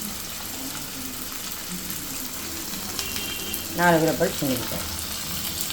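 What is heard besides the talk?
tempering spices sizzling in oil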